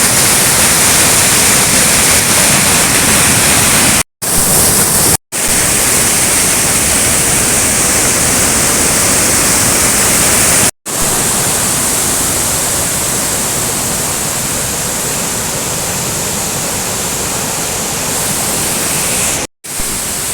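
Urulikkund waterfall in Kannur, a set of small cascades, pours in a loud, constant rushing roar of water close by, briefly cut by a few sharp dropouts.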